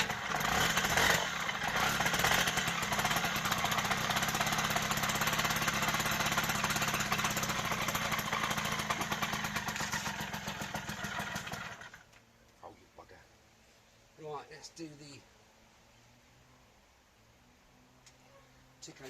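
A Suzuki FZ50 moped engine starts and runs loud and close for about twelve seconds with a rough, buzzing drone, then cuts out, leaving faint clicks and brief voices.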